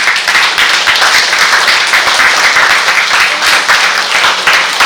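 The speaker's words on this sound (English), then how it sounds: "Let's give them a big round of applause." A large audience at an International Women's Day event gives loud, sustained applause for surveyors standing for recognition, a dense, even roar of clapping throughout.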